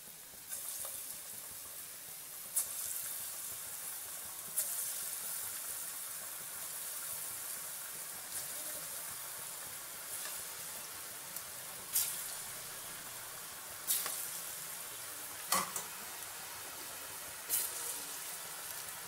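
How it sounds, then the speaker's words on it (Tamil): Lentil balls deep-fry in hot oil in a kadai, giving a soft continuous sizzle with scattered crackles and pops, a few sharper bursts standing out from the quiet bubbling. "இப்போ நம்ம போட்டு பொரிச்சு எடுத்து வச்சுக்கலாம்."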